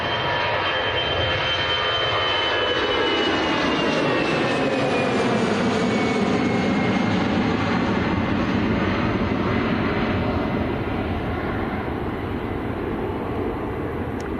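An Airbus A319 airliner at Manchester Airport roars steadily and loudly throughout, its broad engine noise rising and holding with a descending whine, no talk over it.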